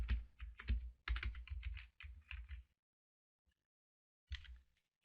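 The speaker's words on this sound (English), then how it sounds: "where it says search plugins, you type in WooCommerce" Bursts of quick, close keystrokes on a computer keyboard, typing a short search term in rapid clusters, then a pause and one more brief burst of keys.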